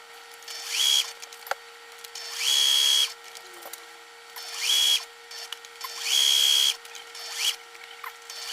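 A sewing machine or power tool runs in repeated bursts while stitching around a small handmade couch built from a Kleenex box, with four or five whirring runs separated by short pauses and small clicks, no talking.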